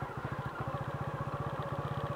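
A motorcycle engine runs steadily at low revs as the clutch is slowly let out without stalling, a close, even, rapid thumping pulse with a mechanical clatter that keeps going throughout.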